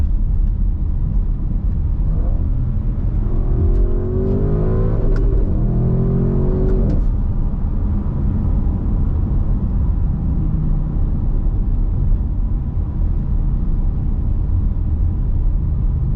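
A 2021 Audi RS6 Avant accelerates hard in second gear, its engine note rising in a loud climbing sweep, then easing off into a steady rumble of road and cabin noise.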